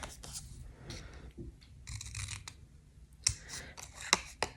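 Spring Action Easy Snips scissors cut paper close up in short crisp snips, spaced irregularly, with rustling paper between cuts and no talking.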